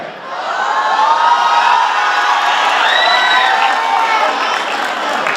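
An audience at a college welcome program applauds loudly and continuously, with crowd cheering and a few whoops mixed in across the whole stretch.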